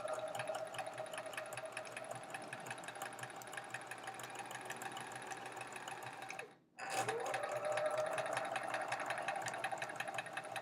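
A home sewing machine stitches a quilt block in a fast, steady mechanical whir, stops briefly near the end, then starts again and keeps running at the same pace; no one talks.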